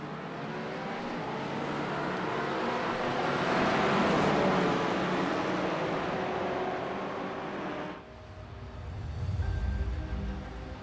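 In a racing video game, a pack of TCR race cars roars off the start at Miami, a dense, steady engine drone that swells, then briefly thins before rising again.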